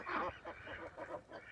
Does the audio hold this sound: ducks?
yes